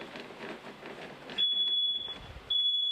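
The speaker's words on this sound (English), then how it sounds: "he realized it was his carbon monoxide detector" A carbon monoxide detector alarm sounds a loud, steady high-pitched tone, then breaks off briefly and resumes, following a stretch of muffled broadband noise.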